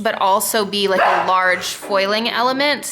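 Dogs bark and whine indoors in a few short yelping bursts, mixed in with someone talking over them.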